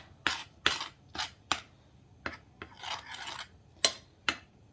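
A spoon scrapes and clinks against a bowl while seasonings are mixed, about a dozen close, distinct rasping strokes in an irregular rhythm, with quiet pauses between them.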